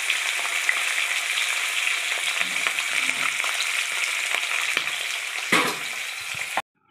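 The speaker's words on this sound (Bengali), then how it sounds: "মাছ কটা ভেজে নিই।" Pabda fish frying in hot oil gives a steady, loud, close sizzle that crackles throughout and cuts off abruptly near the end, with no voices.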